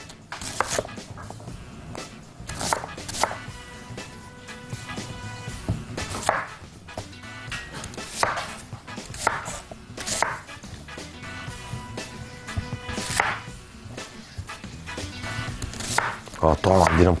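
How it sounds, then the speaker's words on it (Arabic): A knife chopping white onion into cubes on a board, a series of sharp irregular knocks close by, with a voice talking over them. "هقطعه عندنا مكعبات، ماشي، بصل ابيض"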